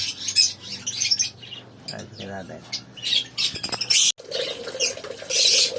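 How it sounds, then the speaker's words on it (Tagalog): Pet lovebirds in a home aviary, including opaline varieties, give off bursts of squawks and chirps throughout, with someone talking over the birds. "ito ngayon pakapakita ko sa inyo yung mga lovebirds na alaga ko sa aking ibiri"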